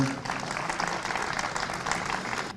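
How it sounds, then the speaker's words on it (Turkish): A gathering in Yıldırım applauds for a local mayor, a fairly faint, steady spatter of clapping lasting a couple of seconds. "sizden güçlü bir alkış rica ediyorum Oktay Başkan'a"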